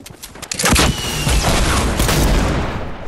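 Gunfire from a Fortnite match, a sharp rifle crack that opens into a loud, sustained burst of shots and booming game noise lasting a few seconds, close and dense, with no talk over it.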